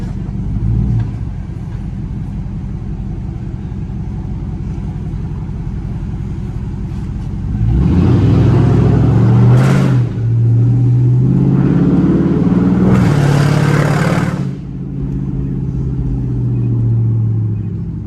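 A loud catless Chrysler 300C drives through downtown Chicago at night, its exhaust idling low and steady before two strong throttle surges swell into deep revving roars, then easing back to a heavy burble.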